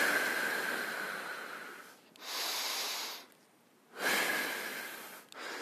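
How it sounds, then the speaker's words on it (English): Close breathing exercise: a long inhale through the nose, a held pause of near silence, then a strong airy exhale, followed by the start of another breath, with no talking. "I'm going to go in through the nose and I'm going to hold and hold and then get to an exhale out the mouth"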